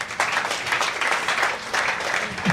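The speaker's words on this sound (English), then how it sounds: "Clap for Jesus." A congregation clapping during a church service, loud sustained applause from many hands with a continuous dense texture and slight rhythmic pulsing throughout.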